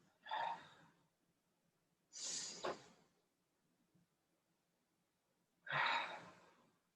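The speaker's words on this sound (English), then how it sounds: "Keep breathing in through your nose," Three slow, close breaths for a pranayama exercise, drawn in through the nose and let out through the mouth, each a soft airy rush separated by near silence.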